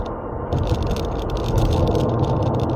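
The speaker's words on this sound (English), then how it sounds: "if you ever listen to the road noise or tyre noise," Steady broadband road and tyre roar fills the cabin of a 2023 MG5 Essence 64 cruising at low speed, a continuous loud rumble and hiss with no talking.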